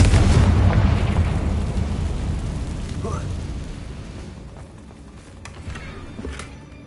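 A Confringo blasting curse detonates in the Hogwarts Legacy video game, a loud, deep boom with rumbling debris that slowly fades over several seconds, followed by faint crackles and small pops.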